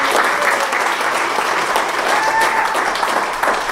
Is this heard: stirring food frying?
no